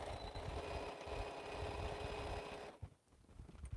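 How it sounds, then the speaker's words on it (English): Sewing machine stitching quilt pieces in a continuous run, a faint rapid mechanical whir and needle chatter that stops near the end, followed by a few soft handling knocks. "So we'll just keep sewing this so I don't have to break my thread."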